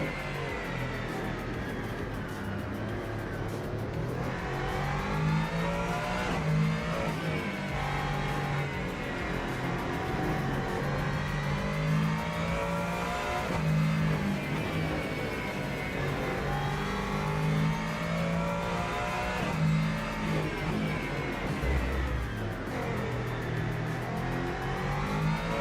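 A Ford Mustang race car engine in the Rennsport racing sim game drones continuously, its pitch rising and falling through gear changes and revs at a steady, moderate level.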